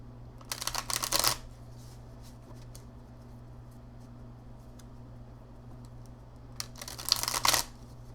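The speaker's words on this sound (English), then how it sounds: "I'm just going to shuffle 3 times, do 3 cards, and one oracle card after." Tarot cards shuffled by hand in two short riffling bursts, one at the start and one near the end, separated by a quiet stretch with a low steady hum underneath.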